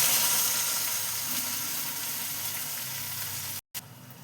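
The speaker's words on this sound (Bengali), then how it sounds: "এবার এটাকে আমি নাড়াচাড়া করে কষিয়ে নেব।" Ground spice paste fries in a pan while being stirred for a dudh potol curry. It gives a dense, even, close sizzle that continues almost unbroken and is cut by one brief gap near the end.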